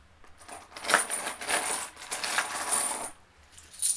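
Metal Kickstarter REN coins clink and jingle in a run of bright, rattling metallic taps, close and fairly loud, fading briefly before a last clink.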